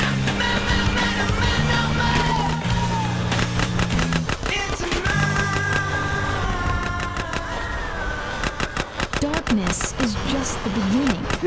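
Drive-by gunfire in GTA San Andreas from a lowrider, rapid repeated shots crackling over a loud music track with voices and car sounds mixed in.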